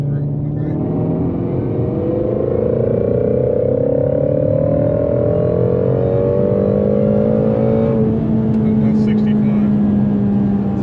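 Shelby GT350 with a Gen 5 Whipple supercharger accelerating hard, a loud, continuous engine roar climbing in pitch, then dropping at a gear change around eight seconds before climbing again, with supercharger whine over the top.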